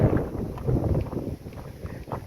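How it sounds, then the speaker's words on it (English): Strong wind gusts buffet the microphone at an abandoned railway station, a loud, rough, low rumble that surges and eases in irregular bursts. "It's very, very, very windy."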